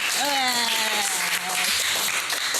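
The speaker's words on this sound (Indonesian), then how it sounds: "Tepuk tangannya dulu dong" A studio audience at a talk-show taping applauds steadily while voices cheer and whoop over the clapping.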